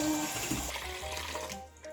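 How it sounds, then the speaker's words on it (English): Warm water runs from a kitchen tap while challah dough is being prepared, a brief, fairly quiet, steady gush with a faint faucet hiss. "We're gonna take 1 cup and 3/4 of warm water."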